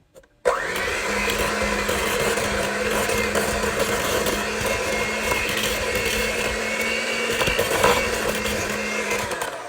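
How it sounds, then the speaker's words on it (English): An electric mixer beating an egg into tea cake batter, a steady loud whirring drone that starts abruptly and holds level throughout with a slight rise in pitch once running, no voices. "I'm going to mix that one in there."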